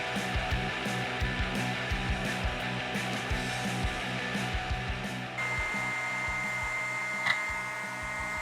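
Hot air rework station desoldering a charging chip from a PS4 controller circuit board, a continuous airflow hiss under a rhythmic ticking pulse that shifts to a brighter tone partway through, with no talking.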